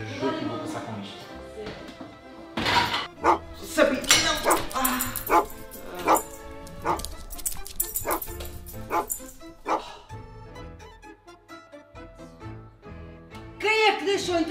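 A dog barks and yips repeatedly inside a house, loud and close, the bursts scattered among people talking.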